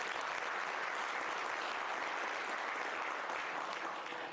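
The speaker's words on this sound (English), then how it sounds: "Please give them a big applause." Sustained, dense audience applause after a children's dance performance at a Tibetan community event, heard as an even wash of many hands clapping that holds steady and only tapers slightly at the end.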